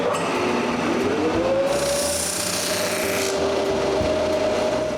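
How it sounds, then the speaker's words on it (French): Protruding bits of wood are trimmed off a wooden plaque with a power tool that drones continuously, with a whining tone rising early on and a brighter rasping burst in the middle. The sound is close and steady, with no speech. "La première chose que je dois faire, c'est d'enlever ces bouts de bois qui dépassent."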